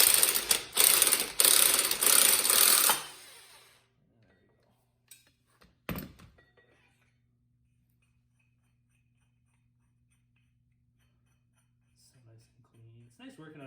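On a 2022 Can-Am Renegade 1000 XMR with about 50 km on it, a clutch puller works the clutch loose with rapid, loud ratcheting clicks for a few seconds, then a sharp knock and near silence, with faint tool sounds toward the end.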